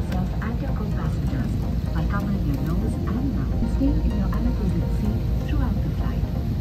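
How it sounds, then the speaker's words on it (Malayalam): Steady, loud engine roar inside an airplane cabin as it takes off on a flight to Bangalore, with voices talking faintly underneath throughout. "ബാംഗ്ലൂരിലേക്കുള്ള ഫ്ലൈറ്റ് ഏകദേശം ടേക്ക് ഓഫ് ചെയ്യുകയാണ്"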